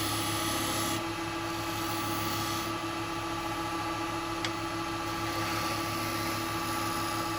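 A spindle gouge cuts wet wood spinning on a lathe, giving a continuous rough rasping scrape over the steady hum of the motor, close and unbroken with slight shifts in pressure.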